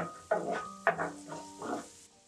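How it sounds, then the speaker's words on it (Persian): Finely diced onion sautés in oil in a pan, a soft sizzle broken by three distinct scraping stir strokes close by. "یه پیازو که نگینی خرد کردیم هم بهش اضافه میکنیم و یکی دو دقیقه این تفتش میدیم"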